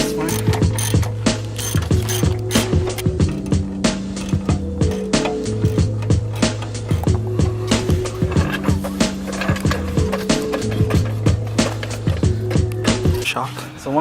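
A ratchet wrench cranks a bolt out of a Corvette shock absorber mount, giving a loud, close, rapid clicking pawl in repeated back-and-forth strokes that run steadily throughout, with no one speaking.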